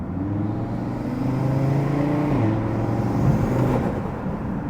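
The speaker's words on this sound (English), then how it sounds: "you can actually hear the turbo spooling up" A car's exhaust rumbles steadily with a low engine drone, a faint rising whine of turbo spool building through the middle and settling near the end, close and continuous with no talking.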